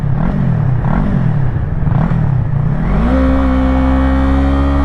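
Yamaha YZF-R3 motorcycle engine revving up and down while riding, its pitch wavering through several throttle swells before a downshift leaves it holding a steady, loud drone close by.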